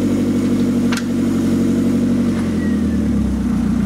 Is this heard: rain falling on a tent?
no